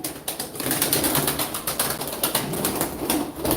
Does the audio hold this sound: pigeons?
yes